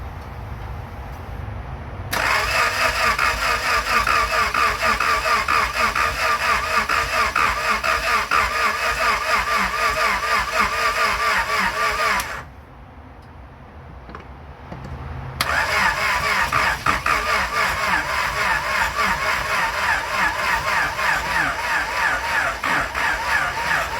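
A 1991 Honda Civic RT wagon on a weak borrowed battery, its engine cranking with a loud rapid mechanical churn for about ten seconds, a short pause, then cranking again, close and continuous.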